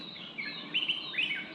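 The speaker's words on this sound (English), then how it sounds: "You can actually hear the bird chirpings." A small bird chirps a few quick, high notes in short bursts, fairly faint against a quiet outdoor background.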